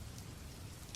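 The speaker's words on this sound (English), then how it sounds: "Rain fell in gentle curtains across Gotham City" Gentle, steady rain falling over a night city, a soft continuous hiss of droplets with no voices and no thunder.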